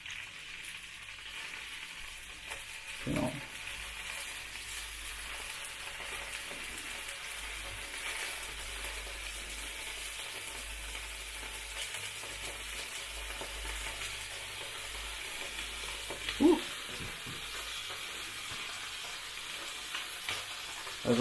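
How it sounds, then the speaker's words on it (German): Turkey breast sizzles in a hot frying pan, a continuous close hiss with faint crackle and a couple of brief clunks, and someone says a word at the end. "Wir legen das mal in die Pfanne. Und wenn es zischt, hört man jetzt, dann können wir es reinlegen."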